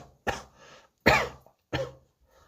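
Three sharp coughs, close and fairly loud, spaced about a second apart with short breaths between.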